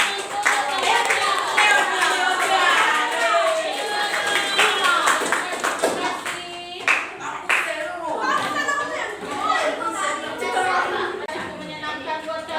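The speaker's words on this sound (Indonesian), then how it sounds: "tepuk tangan untuk Leona" Classroom applause for a student named Leona during a school teaching session, with children's clapping mixed into a busy wash of young voices chattering throughout.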